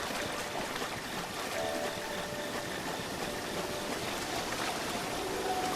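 A waterfall in The Legend of Zelda: Breath of the Wild gives off a steady, dense rush of water that holds even and unbroken throughout, with faint tonal game ambience underneath.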